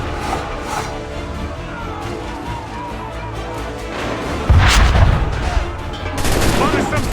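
Cannon fire in the video game Assassin's Creed 3, heavy booms and crackling blasts over a dense battle din, with a louder impact partway through.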